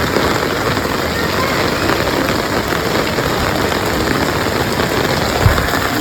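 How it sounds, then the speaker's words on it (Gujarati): Steady, dense overnight rain pours down without a break in Patan, a continuous close hiss of drops hitting surfaces, with no talking. "પાટણમાં આજ આખી રાતનો વરસાદ પડે છે"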